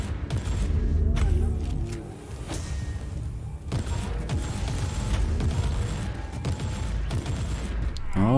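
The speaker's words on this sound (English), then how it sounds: "need little explosions, and we use the explosive shells" Explosive shells firing in the action game Warhammer 40,000: Inquisitor, a dense barrage of booming blasts and rattling gunfire layered over game music, with several sharp impacts standing out across the stretch.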